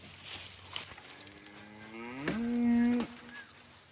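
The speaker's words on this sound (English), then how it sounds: "Them cows act like they hadn't seen food all day." Cattle on a Tennessee farm moo at feeding time, with one loud, drawn-out low call rising to a strong held tone close by, fainter lowing and rustling around it.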